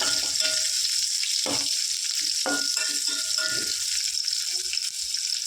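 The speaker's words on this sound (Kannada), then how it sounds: "ಈರುಳ್ಳಿ ಕಲರ್ ಚೇಂಜ್ ಆಗೋವರೆಗೂ ಫ್ರೈ ಮಾಡ್ಕೋಬೇಕು" Onion frying over medium flame in a pan for egg rice, a loud, steady, close hiss of hot oil with a few low thumps and rattles from stirring, and no speech.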